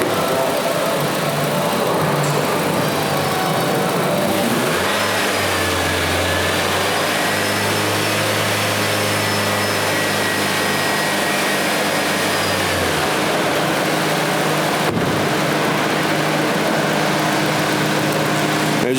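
A 2017 Nissan Sentra with a lean-condition fault idles steadily, then its engine is revved and held at a raised, droning pitch for several seconds before dropping back to idle.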